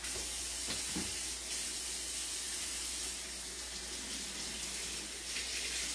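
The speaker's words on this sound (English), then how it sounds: "I am going to wash my hands and get started." Tap water runs steadily into a sink as hands are washed, a close, constant rushing hiss with a couple of brief splashes near the start and no talk.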